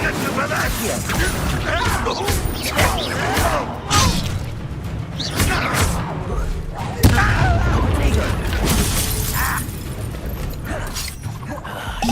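Incendio fire spell cast during combat in the Hogwarts Legacy video game: dense, loud bursts and booming impacts with mechanical clatter throughout, a strong hit near the middle, mixed with battle effects and voices.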